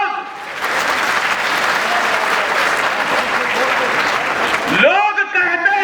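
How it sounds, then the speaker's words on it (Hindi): Sustained applause from a large audience at a minority community mahapanchayat public meeting, dense clapping filling the hall for about five seconds before a voice breaks in at the end. "तालियां नहीं बजा सकते आप"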